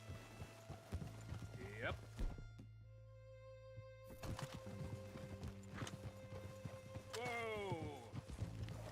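Galloping horse hooves in Red Dead Redemption 2, a steady clip-clop running under game music with a brief whinny and short shouted voices.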